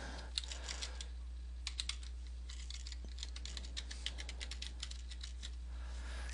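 Login details typed on a computer keyboard: a run of quick, light key clicks in uneven bursts over a steady low hum, close and fairly quiet.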